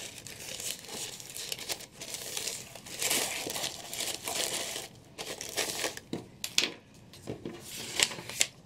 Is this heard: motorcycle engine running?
no